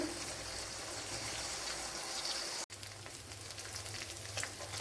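Chicken deep-frying in oil in a Kerala kitchen for chicken pollichathu crackles with a dense, steady sizzle close by, broken by one brief drop in the sound partway through before the frying resumes at full strength.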